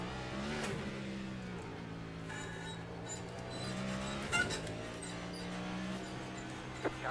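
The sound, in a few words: race car engine passing in video game iRacing at Chicago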